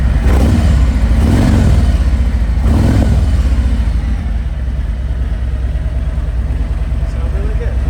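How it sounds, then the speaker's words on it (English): A 2022 Harley-Davidson Street Special FLHXS with a 114 engine and Screamin' Eagle pipes revs twice, loud and close, deep throaty swells rising and falling before it settles back to a heavy rumbling idle. "Okay, I'll give it a couple of revs for you guys."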